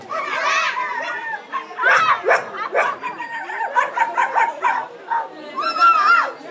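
Several children at a birthday party imitate a dog, barking and yipping in quick overlapping bursts, loud and near, with brief pauses between the rounds of woofs.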